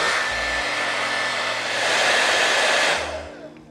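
A hair dryer blows steadily and loudly at close range, drying a flathead or scorpionfish laid out for a fish print, its whooshing airflow swelling slightly before easing off near the end.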